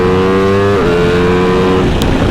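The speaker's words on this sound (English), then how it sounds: "it just feels like it bogs when I'm going into a straight" An Aprilia motorcycle engine drones steadily close up on a racetrack, then its pitch stumbles and drops briefly mid-clip as it bogs under acceleration on a straight before holding again.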